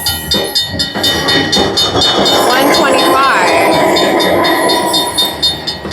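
A slot machine's gold train bonus plays a loud, bright sound effect with rhythmic clickety-clack rail chugging and a steam-whistle sweep, while a voice speaks briefly over it.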